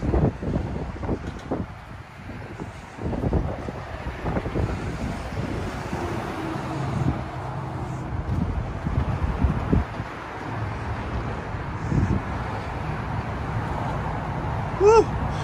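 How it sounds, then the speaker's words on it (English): Strong wind buffeting a microphone on the Benjamin Franklin Bridge in Philadelphia, loud continuous rumbling gusts with a roaring wash underneath, and faint speech partly buried in the noise. "the wind is really putting up a fight. I'm sure you guys could hear it in the microphone."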